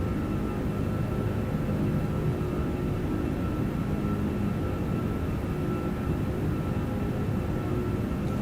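A Lufthansa Airbus A340-600 airliner in a flight simulator game, a steady, loud, unbroken engine drone with a low rumble and faint high whine, constant throughout with no voices.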